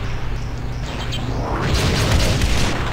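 A weapon blast in the Brutal Doom SIGIL E5M7 level on GZDoom, a loud rumbling boom that swells after a softer opening and fills the short clip with broad, roaring noise.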